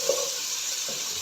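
Onion-tomato masala for aloo baingan fries in oil in a pan, a close steady sizzle with faint stirring, no talking.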